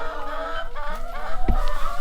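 Hens being moved to a new enclosure cluck close by in short repeated bursts, with a louder squawk near the middle over a steady background of farmyard noise.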